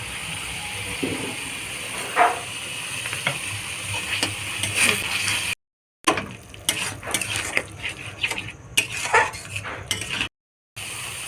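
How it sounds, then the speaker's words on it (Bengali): Ground spice paste being sautéed in oil in a pan for a paneer dish, soft sizzling broken by sharp clinks and scrapes of a spoon against metal, with brief silent gaps. "দিয়ে দু মিনিট মতন কষে নেবো দিয়ে দেবো যে যে ঘুরিয়ে নিয়েছি মশলাটা সেই মশলাটা"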